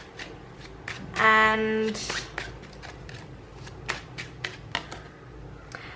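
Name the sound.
tarot cards being drawn from the deck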